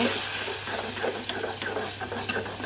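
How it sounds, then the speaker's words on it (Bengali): Chilli and cumin powder are stirred in a hot cooking pan, a close, steady sizzling hiss with light scraping strokes over a couple of seconds. "এটাকে এখন ভালো করে মিশিয়ে নেব"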